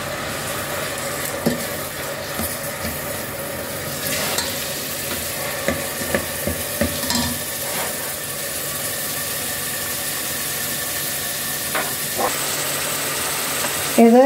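Grated onions frying in oil in a pot for moussaka: a steady close sizzle with intermittent scraping and stirring clatters, and a low background hum throughout.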